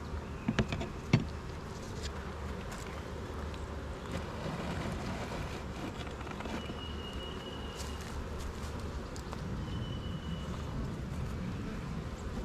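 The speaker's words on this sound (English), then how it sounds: "Straggler bees, there's just a few left." Honey bees buzz steadily in a low drone around a hive during an inspection, a few insects passing close with louder hums, a couple of sharp knocks early on, no voices.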